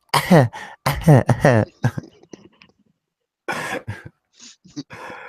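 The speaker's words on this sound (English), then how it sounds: "I got one of those coughs that it hurts, like hurts really bad to cough" A man gives a harsh, painful chest cough in a few short bursts close to the microphone, followed by quieter throat sounds and a brief pause before more coughing.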